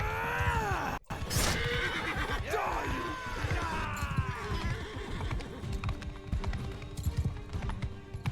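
Repeated horse whinnies and neighs over steady galloping hoofbeats in the medieval battle game Mount & Blade II: Bannerlord, loud and continuous amid battle noise, with a brief dropout near the start.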